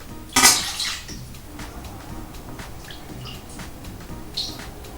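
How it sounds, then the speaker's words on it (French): Water, 400 ml, is poured in a single go into a bowl of corn tortilla flour mix, a sudden splashing gush that fades over about a second, followed by faint clinks of the bowl. "Et nous allons verser aussi les 400 ml d'eau d'une seule fois."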